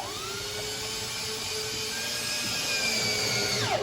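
A power drill whines steadily and close while driving a couple of screws to mount a fixture in a home workshop, a continuous high-pitched run with no pauses.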